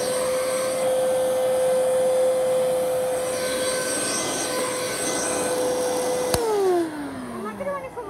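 A secondhand vacuum cleaner with a crevice tool runs with a steady, loud motor whine and airflow roar for several seconds, then switches off with a sharp click and its pitch sweeps downward as the motor winds down.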